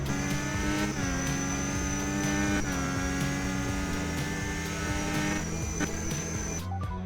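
An F1 race car in a Roblox game drives with a loud, continuous, high-pitched engine drone. The pitch climbs and drops with each gear shift and never lets up.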